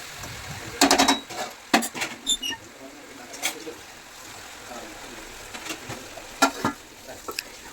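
Ridge gourd and potato curry stirred in a pan, with intermittent sharp scraping and clattering strokes of a spoon over a faint sizzle, close by, quieter stretches between bursts.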